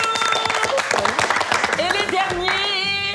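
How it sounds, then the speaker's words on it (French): Audience applause and clapping mix with lively voices and laughter in a noisy studio crowd, brief and busy, with talk running over it. "Applaudissements."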